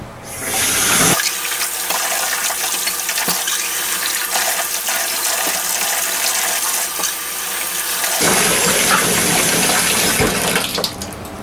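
Steady running water from a tap rinsing soap out of a trumpet, starting with the bell, a continuous splashing rush that shifts in tone as the flow hits the brass, with no talking.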